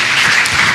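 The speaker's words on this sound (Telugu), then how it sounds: "గట్టిగా చప్పట్లు కొట్టి ప్రభువుని మహిమపరుద్దాం." A church congregation claps together in praise of the Lord, a short, loud, dense burst of applause that stays even throughout.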